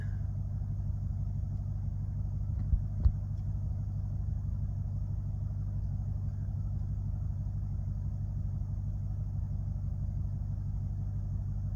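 A car driving along with a steady low engine and road rumble from inside the cabin, constant throughout, with a couple of faint clicks and no speech.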